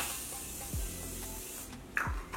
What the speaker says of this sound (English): I'm gonna spray my Morphe spray